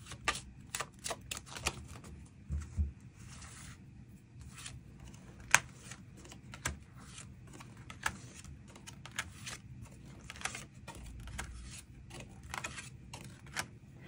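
Tarot cards being shuffled and drawn at a weekly reading, heard as soft, irregular riffling clicks and card snaps close by, with no talking.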